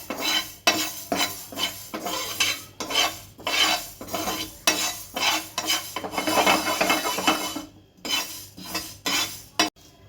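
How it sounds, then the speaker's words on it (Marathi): Fenugreek seeds dry-roasting in a pan for mango pickle, stirred with a metal spoon in repeated scraping, rattling strokes with faint sizzle between them, close and fairly loud, with no talk. "मेथीच्या बिया त्या पण मी परतून घेणार आहे चांगल्या"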